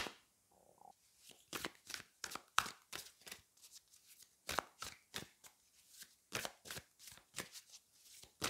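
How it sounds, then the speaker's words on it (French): Tarot cards being shuffled and drawn from a deck during a reading, a quick run of crisp papery riffles and flicks in irregular bursts, close and fairly quiet, with no talking. "Donc là, on va tirer qu'une carte."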